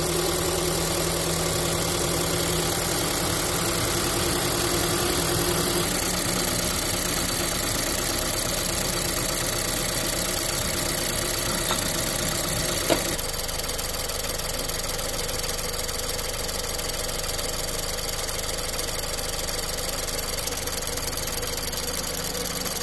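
A Ford EcoBoost engine with a low fuel rail pressure fault, running at a steady, loud idle with a constant rumble and mechanical clatter throughout.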